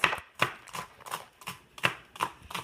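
A knife slices thin green onion rounds on a cutting board, six or seven crisp, evenly spaced chops close up, fairly quiet with no talk.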